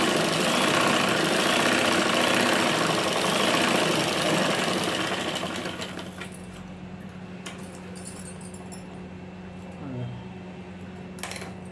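A sewing machine runs continuously while stitching a blouse lining, a dense whirring drone for about six seconds. It then stops, leaving a low hum with a few faint clicks and handling sounds.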